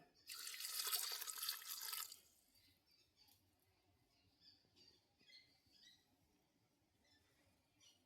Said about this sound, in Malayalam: കുറച്ച് വെള്ളം ഒഴിച്ചു കൊടുക്കാം